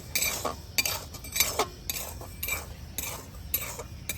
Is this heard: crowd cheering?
no